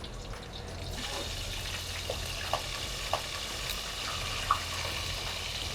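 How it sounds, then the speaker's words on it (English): Steady hiss and crackle of birds frying in hot beef tallow, with a few small pops rising above the continuous sizzle. "these birds are going into the sizzling hot beef tallow"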